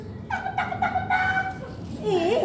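A voice imitates a clucking chicken, a few short squawking calls followed by a rising warble, close and fairly loud.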